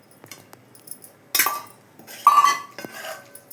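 Metal spoon clinking against a pot while curd is stirred into an eggplant and egg curry, giving a few sparse, close taps and scrapes separated by quiet gaps.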